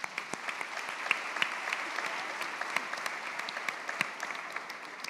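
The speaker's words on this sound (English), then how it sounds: "A round of applause." Audience clapping for a group of finalists, a dense steady round of applause at moderate distance that continues evenly throughout with no talk over it.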